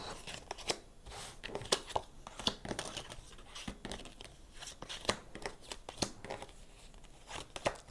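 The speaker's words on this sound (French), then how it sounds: "Allez, on va aller prendre 9 cartes" Tarot cards are drawn from a deck, nine in all. Soft, close papery flicks and snaps repeat irregularly, with crisp card slaps over a low hiss and faint talk in the background.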